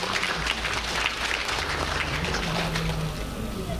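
An audience at the opening of an international trade fair claps steadily throughout, a dense sustained wash of applause from a large crowd, with a low murmur beneath it.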